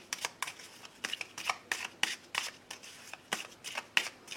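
Tarot cards being shuffled up close make quick, repeated riffling slaps in an irregular rhythm, fairly quiet and with no talking.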